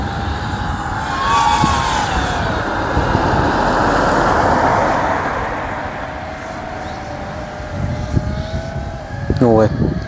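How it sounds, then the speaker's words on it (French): A car approaches along a road, its engine and tyre noise swelling and fading in a broad wash under the whine of a nearby FPV drone, with talk over it. "il y a une voiture là, je le vois. Je l'entends, elle arrive"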